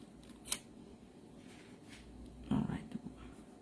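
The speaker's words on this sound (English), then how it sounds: "Now I can just trim this and it's neat and contained." Scissors snip through card paper at a crafting table in a few short, close cuts, a sharp one early and a brief cluster later, under quiet background.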